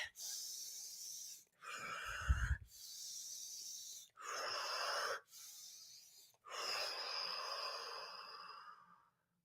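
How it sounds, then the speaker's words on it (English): Deep, deliberate breaths taken before plunging into cold water: long hissing inhales and exhales in a steady cycle of about five breaths, close and fairly quiet, with no talking. "I really focus on my breath"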